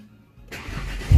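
A car engine cranks and catches after a push-button start from a universal start/stop switch, a brief quiet lead-in followed by a rising whir and a firm low rumble as it fires, close by.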